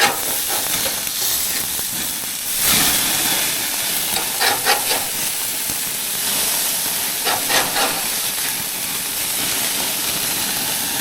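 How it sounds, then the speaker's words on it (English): Meat sizzles on a barbecue grill outdoors after being flipped, giving a loud, continuous hiss and crackle throughout with a few brief scraping bursts. "some of the juice is starting to come up, so we're going to give these a flip"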